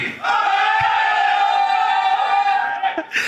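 A crowd at a cricket league launch event shouts and cheers loudly in one sustained roar, then cuts off abruptly near the end.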